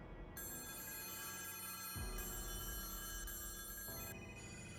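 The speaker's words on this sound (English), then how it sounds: "All of a sudden, every phone in the office erupts into ringing at once." In the video game NIKKE, many office phones ring at once in a dense, continuous electronic chorus that shifts partway through and fills the space.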